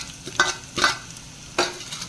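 Urad dal frying in a pan with cumin and coriander seeds, heard as soft sizzling under three distinct scraping stirs of a spoon against the pan, close and fairly quiet.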